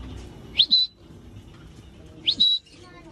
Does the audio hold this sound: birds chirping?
yes